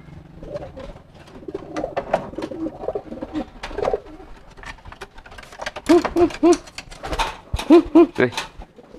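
Racing pigeons coo close by in short repeated throaty bursts, mixed with wing and cage noises, while someone talks over them.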